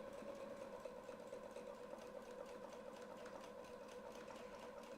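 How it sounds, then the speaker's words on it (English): A sewing machine runs steadily while stitching a quilt along a clamshell template, a continuous even hum and needle whir at low volume, uninterrupted throughout. "we're going to sew down and stop when we get to that stitch line"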